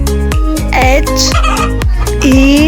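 A hen clucks in a quick series of loud, close, rhythmic calls with no talk over it.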